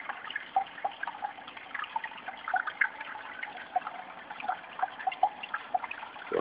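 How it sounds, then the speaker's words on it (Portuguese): Small waterfall in a masonry aquarium, a soft continuous trickle of water with scattered gentle drips and splashes, faint and steady throughout. "Cachoeira."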